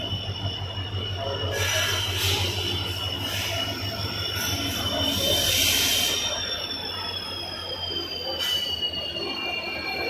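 A moving train on its rails gives a continuous high metallic wheel squeal that swells and fades over a steady low rumble of the carriages, heard close up from inside or beside the train.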